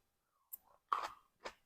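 Crunchy pickled cucumber being bitten and chewed up close, three short crisp crunches spaced about half a second apart with quiet gaps between, no talking.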